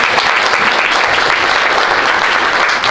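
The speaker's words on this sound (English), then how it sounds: "Round of applause for her." An audience at a Sierra Leonean citizenship ceremony gives a round of applause for a minister, loud and even sustained clapping from many hands without pause.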